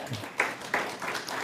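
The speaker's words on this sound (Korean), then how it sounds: "그래서 참 우리 박수 한번 하실까요?" A church congregation applauding, a short burst of scattered clapping with a couple of louder swells, moderately distant in a large room.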